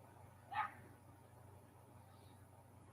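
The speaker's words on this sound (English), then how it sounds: "Sounds like the neighbor's dog's going off." A neighbour's small dog, a tiny one of about five pounds, gives a single short yip at a distance, with a faint start of another at the very end, over a steady low hum.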